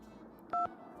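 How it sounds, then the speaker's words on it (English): A single short dual-tone telephone keypad beep in the Nancy Drew game Danger by Design, heard alone over a faint background hum as a number is dialed. "What if we try calling Hugo Butterly again?"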